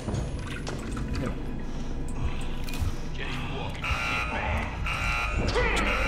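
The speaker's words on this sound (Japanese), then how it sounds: "このアラームマジ何？" In the horror game The Outlast Trials, an alarm blares as a harsh, buzzing tone that swells in over a noisy background, layered with game clatter and faint voices.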